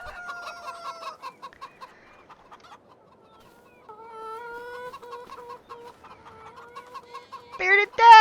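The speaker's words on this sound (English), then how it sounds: "Move, chickens!" Chickens cluck and chatter in a farming video game, a busy run of short clucks that thins out briefly, then returns with a louder squawk near the end.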